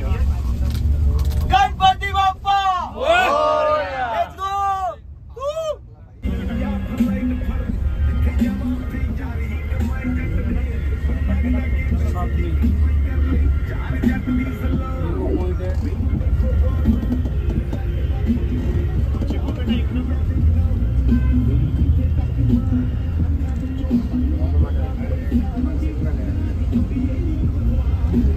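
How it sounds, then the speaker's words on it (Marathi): A bus travels a mountain road in Spiti Valley, its engine a steady low rumble that settles in after a few seconds of people calling out together. "फायनली आता 5 वाजता आपली गाडी निघाली आहे."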